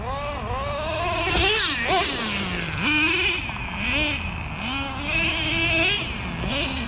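A nitro-powered Traxxas Revo 3.3 RC monster truck engine runs loud and close, its high buzzing whine rising and falling steadily with repeated throttle blips, driving on a dusty surface.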